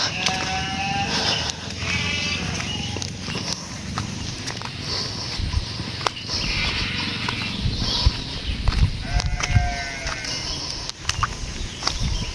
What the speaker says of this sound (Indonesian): Di sini banyak kambing milik warga sekitar ya.